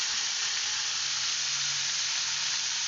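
Pineapple pieces frying in hot oil with fennel seeds for a pickle produce a steady, close, bright sizzle that holds at an even level throughout with no voices.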